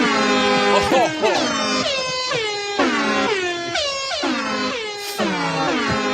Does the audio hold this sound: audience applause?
no